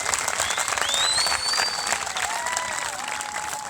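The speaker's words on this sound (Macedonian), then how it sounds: "Аплауз за Панче Добрев кој што" Outdoor crowd applause at the Vasilevo St. George's Day horse races, steady clapping with crowd noise and a few whistles rising over it.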